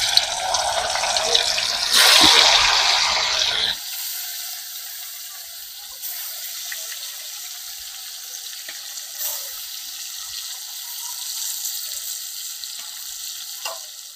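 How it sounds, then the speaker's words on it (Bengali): Fish slid into hot oil in a wok hisses and sizzles loudly for a few seconds, then settles into a steady, quieter frying crackle with occasional pops. "এবারে মাছগুলোকে দিয়ে দেব।"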